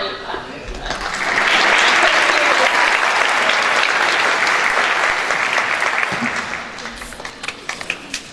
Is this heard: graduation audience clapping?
yes